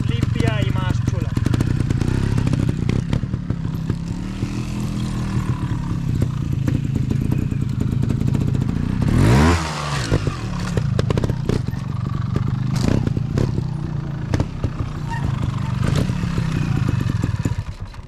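A dirt motorcycle engine running steadily as it rides down a negative step, with a brief sharp rev and clatter near the middle and continuous engine noise throughout.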